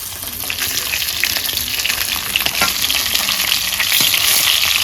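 Tilapia fish frying in hot oil in a pan, with a steady close sizzle and crackle throughout and occasional scrapes as the pieces are stirred and turned.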